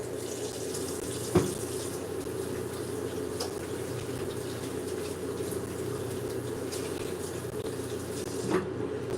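Hands washed under a running kitchen tap, a steady close splash of water pouring into a sink, broken by a couple of brief knocks.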